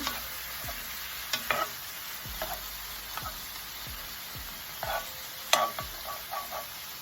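Peppers and garlic cook in a pan for Cajun dirty rice, giving a faint, soft sizzle broken by occasional scrapes and clinks of stirring.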